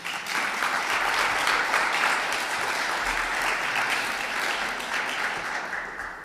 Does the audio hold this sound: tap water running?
no